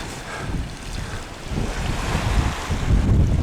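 Rough sea waves and strong wind buffet a kayak in the Bay of Fundy, a continuous roaring wash with gusty microphone rumble and surging swells growing louder toward the end, no voices.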